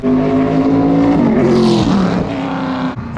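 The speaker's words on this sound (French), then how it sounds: "Ça, déflagration pour rétrogradage." A race car on a wet track, its engine droning loudly with falling pitch as it downshifts and a burst of crackling exhaust backfire midway.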